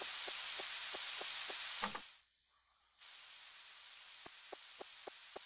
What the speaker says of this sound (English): Sure is raining a lot.